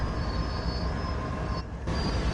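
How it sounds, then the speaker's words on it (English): An 11,000-ton BNSF freight train in Train Sim World 4 on Sand Patch Grade grinds along with a sustained high metallic squeal from its brakes over heavy rolling rumble, loud and continuous. "As you can hear the brakes."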